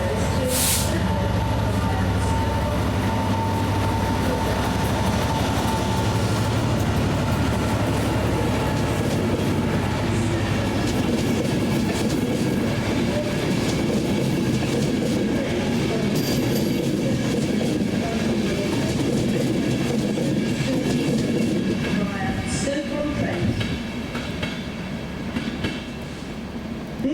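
Class 20 diesel locomotives in Railfreight grey and BR green pass through a station at Crewe or Chester, with a long, continuous rumbling run of rail clatter and wagon noise and occasional air-brake hisses.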